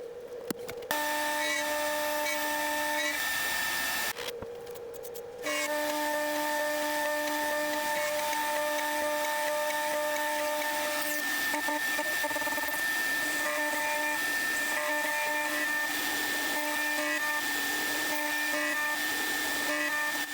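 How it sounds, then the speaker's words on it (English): A CNC machine mills a wooden block for a custom guitar neck, a steady high whine with strong tonal harmonics running continuously, briefly dipping and shifting near the start before settling into an even, loud cutting drone. "So it's time to let the CNC loose on the neck block"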